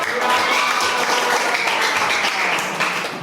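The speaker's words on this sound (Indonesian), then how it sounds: "tepuk tangan kelompok rumah adat" A classroom of students applauding a group that presented on traditional houses, a loud, dense burst of clapping that stays full and steady before easing slightly near the end.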